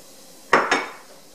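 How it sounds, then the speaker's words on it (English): Two quick knocks of a utensil against a pan, close and clear, while garlic and shallot are moved around and sautéed with butter. Nothing else is heard after the second knock. "just move it around the pan and saute it for about a minute"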